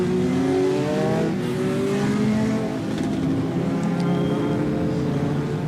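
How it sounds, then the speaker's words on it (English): Great Lakes Legends race cars at a short-track start, engines revving together in a loud, sustained, layered drone with rising and falling pitch, close and continuous throughout. "these Great Lakes Legends drivers, they are ready, set, they are revving, they are ready to go"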